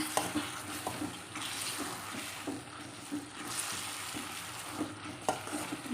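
A spoon stirs onion rice mixed with turmeric and jaggery in a hot pan, soft scraping taps recurring against a low steady sizzle, quiet and close.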